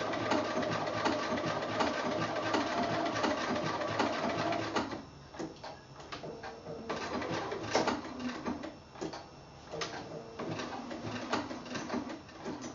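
A sewing machine stitches applique around a quilt block, a close, steady mechanical rattle that pauses midway and resumes in shorter bursts.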